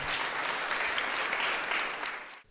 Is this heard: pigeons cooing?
no